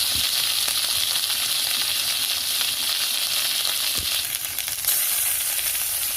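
Drumsticks and potato pieces frying in a pan, a continuous bright sizzle with occasional pops and light stirring, close and steady with no voices.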